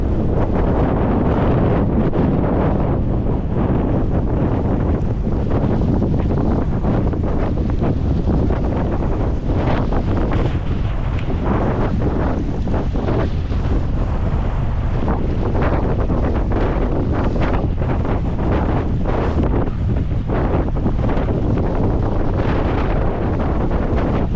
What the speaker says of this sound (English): Wind is not powerful, it's really blowing against us.